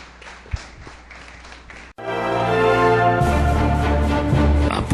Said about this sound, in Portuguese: Aplauda ao Senhor Jesus, em nome do Deus.